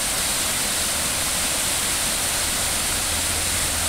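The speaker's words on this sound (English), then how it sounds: "And this is Roaring Brook." Roaring Brook, Rhode Island, spills out of a small pond as a constant, loud, broadband rush of flowing water, steady from start to finish with no voices.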